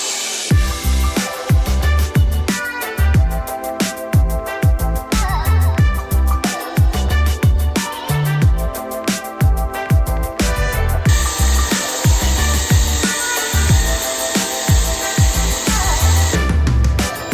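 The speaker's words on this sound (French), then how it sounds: "Petite remarque sur le ponçage, j'avais déjà eu des questions une fois concernant l'outil qu'on utilisait." A power sander works over wooden barn beams during a renovation, loud and close, buzzing in repeated bursts with brief pauses, a harsher high whine joining in the final stretch.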